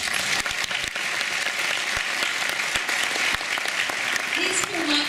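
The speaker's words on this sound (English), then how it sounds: "These feel like really polite rounds of applause" Polite applause from an audience at a vegan activists panel at London Vegfest, steady dense clapping throughout with a few sharper individual claps and murmured voices underneath.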